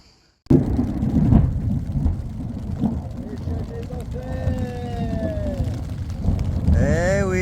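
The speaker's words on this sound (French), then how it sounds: "les orages sont toujours là" Rumbling thunder with steady rain noise in the mountains, while people talk nearby throughout.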